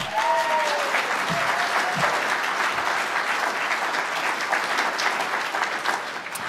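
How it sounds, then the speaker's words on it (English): An audience at a grand jury conference gives a big round of applause, loud continuous clapping spread across a full room, with a brief voice heard early on over the clapping. "big round of applause for Strider"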